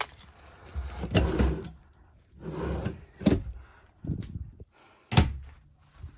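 A series of close wooden thunks and sliding knocks, several separate bumps spaced a second or so apart, as a mirrored closet door or bedside drawer in a fifth-wheel toy hauler RV is opened and shut.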